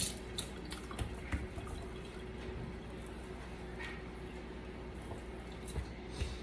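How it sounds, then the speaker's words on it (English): Hands being rinsed under a running kitchen tap while preparing a pork dry rub, a soft continuous trickle of water with small splashes and drips, close by and fairly quiet. "Let me just give my hands a quick rinse."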